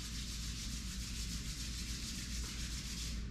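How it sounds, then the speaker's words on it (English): Palms rub together briskly during a yoga session, a steady close swishing friction that continues unbroken for a few seconds. "Rub your palms"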